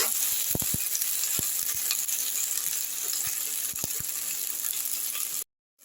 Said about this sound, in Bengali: মশলাটা আমি আরেকবার নেড়ে দিচ্ছি, আরেকটু ভাজা ভাজা হবে।